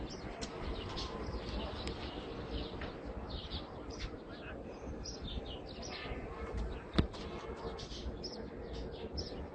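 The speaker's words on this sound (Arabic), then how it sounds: "هاي 70 طير." A flock of about 70 pigeons cooing and fluttering, with scattered chirps and a sharp clap near the end, over a busy, steady background.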